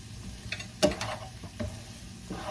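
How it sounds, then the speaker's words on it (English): Carrots and peppers are stir-fried in a pan at close range: a few quick scraping stirs over a faint sizzle, with no voices. "And we'll add the carrots. And carrots, stir it again, and peppers."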